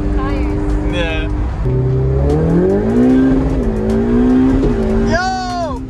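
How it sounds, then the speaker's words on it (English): A supercar revs hard while its tires are warmed, the engine note sweeping up and down with bursts of high tire squeal at the start and end, loud and close. "Okay, I'm warming up the tires."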